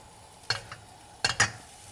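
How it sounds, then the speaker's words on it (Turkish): Minced meat mashed with a sturdy wooden spoon and frying in fat in a pan: three short scraping strokes over a faint, steady sizzle. "eze eze yağımın içinde güzelce kavurmaya başlıyorum."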